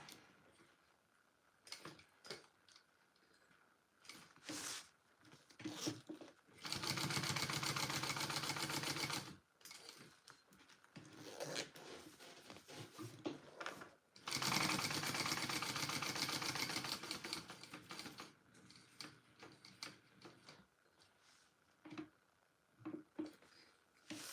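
A sewing machine stitches a Lettie Mini Bowler Bag, finishing the box without backstitching. It runs in two long, steady bursts, with quieter clicks and handling noises between and around them.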